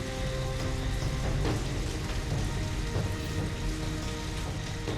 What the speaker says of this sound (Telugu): వర్షం కూడా చాలా వేగంగా వస్తుంది